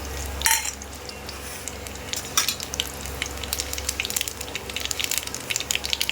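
Dried red chillies and nigella seeds frying in hot oil for a lentil dish with jute leaves, a steady close sizzle broken by sharp crackles and spatters, with a few scrapes of stirring and no talking.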